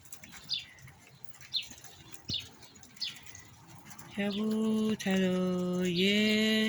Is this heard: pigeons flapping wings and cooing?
yes